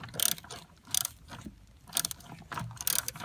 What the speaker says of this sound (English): I'm gonna hold this and grab my socket wrench